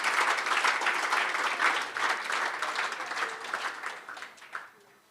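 An audience at a club awards evening applauds as the last medal recipient comes forward, steady dense clapping that thins out and fades toward the end.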